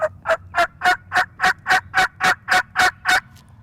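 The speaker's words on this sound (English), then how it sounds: "the yelp, which is a greeting or gathering call used to locate other turkeys" Wild turkey yelps in a steady series of about twelve evenly spaced, loud, clear notes, a greeting or gathering call used to locate other turkeys, heard alone.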